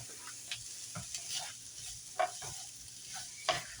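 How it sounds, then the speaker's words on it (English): Meat sizzles in a pan with onion while a utensil stirs it, giving a steady frying hiss broken by scattered scraping clicks and light knocks. "Throw the meat in there. Get this mixed in."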